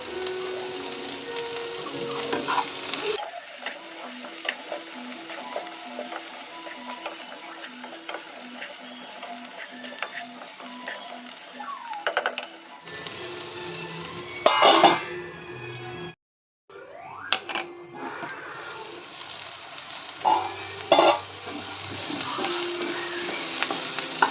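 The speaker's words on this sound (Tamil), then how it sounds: "வதக்கிக்கலாம் பூண்டையும் போட்டு. கருவேப்பிலை சேர்த்துக்கிட்டேன்." Garlic and curry leaves sauté in a pan with onions for a Tamil wedding-style vatha kuzhambu, giving a steady close sizzle with scrapes and clinks of stirring and no talk.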